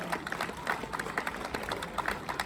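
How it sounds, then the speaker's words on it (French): An audience at a community association event claps for its volunteers, a dense, fairly soft patter of many hands lasting the whole stretch. "Donc on applaudit les bénévoles, s'il vous plaît"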